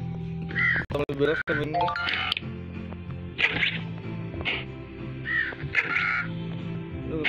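Crows cawing in the video game Survival Craft 2, repeated harsh calls at moderate distance over steady game ambience, with someone talking throughout.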